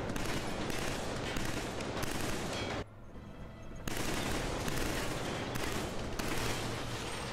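Sustained automatic weapon fire in Killzone 3 rattles in dense, rapid bursts, pauses for about a second, then resumes with heavy continuous shooting and occasional sharp individual reports.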